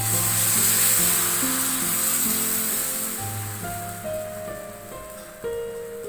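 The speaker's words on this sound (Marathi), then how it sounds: "आता त्याच्यावर आपण पीठ घालून घेणार आहोत।" Tomato dosa batter poured onto a hot griddle sizzles with a bright hiss that starts strong and slowly fades, while faint steady tones from background music run underneath.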